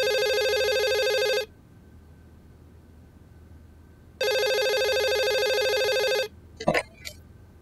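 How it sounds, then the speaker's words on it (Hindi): A telephone rings loudly with a bright electronic trill in two long bursts separated by silence, ending with a short click-like sound. "सालार साहब अब क्यों फोन कर रहे हो?"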